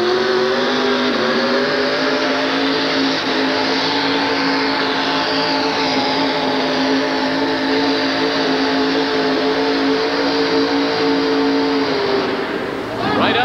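A carbureted monster truck engine holds a loud, sustained roar on a dirt track at a 1988 USHRA event in Hartford, close and steady for several seconds before dropping off near the end, with no talk over it.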